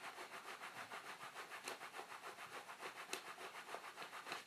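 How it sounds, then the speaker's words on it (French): Palms rub over the body during a guided meditation, making soft, rhythmic swishing strokes. The strokes repeat about twice a second, faint and close, with no voice over them. "Je frotte, je frotte, je frotte, je frotte."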